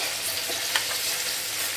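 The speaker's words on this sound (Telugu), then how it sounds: "ఇది బాగా వేయించుకోవాలి నూనెలోని మధ్యలో ఆయిల్ అనేది వస్తుంది కాబట్టి నేను మధ్యలో వేసి వేయిస్తున్నాను" Ginger-garlic paste sizzles steadily in hot oil, a continuous close frying hiss with a faint stirring clink near the middle.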